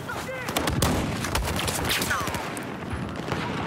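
A 12-gauge shotgun in the Battlefield 4 video game is fired, with sharp gunshot reports amid a dense wash of battlefield gunfire and explosions throughout.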